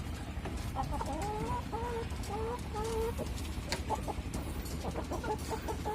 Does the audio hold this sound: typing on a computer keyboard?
no